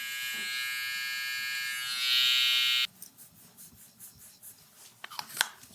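Steady electric buzz of an Uno 2.0 single-foil electric shaver running close by during a high taper haircut, rising slightly before cutting off abruptly midway, followed by faint scraping and handling sounds.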